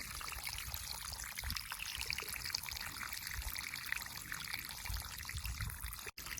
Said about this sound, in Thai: เราปล่อยน้ำมาจากห้วย